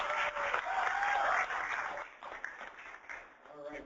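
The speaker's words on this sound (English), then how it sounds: "Give him a round of applause." An audience applauds at a university lightning-talk event, steady clapping for about a second and a half before fading into scattered claps under a host's voice.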